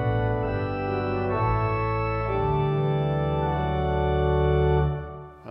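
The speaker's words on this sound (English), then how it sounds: "Add the 4-foot principal." Digital church organ, a Viscount Envoy 35-F, sounding two open diapasons with a 4-foot principal stop added, playing a sustained chordal passage with shifting held chords, full and steady throughout and alone before a brief release at the end.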